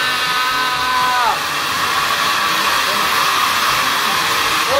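A jacuzzi air blower at a home swimming pool roars on loud and close: a steady, harsh blowing whoosh whose whine dips in pitch early on, then holds at a constant level.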